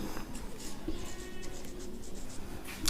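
Pen writing a statistics mean formula by hand on paper during a Class 10 lesson, a steady faint scratching that runs continuously at close range, with no speech over it.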